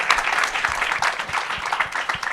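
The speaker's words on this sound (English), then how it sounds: "give us a round of applause" An audience applauds at a talk on digital transformation in agriculture, a dense, steady patter of many hands clapping together for a couple of seconds, close and fairly loud.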